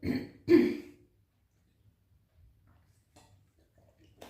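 Two gruff throat-clearing rasps come close together at the start, followed by near silence with faint ticks.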